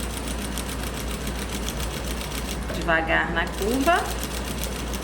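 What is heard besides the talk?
sewing machine stitching fabric bias binding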